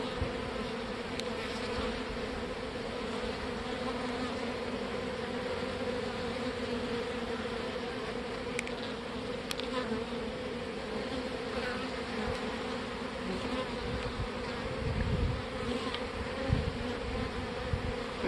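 Honey bees buzz around swarm cells at a hive, a dense, steady droning hum that holds for the whole stretch with no voices over it.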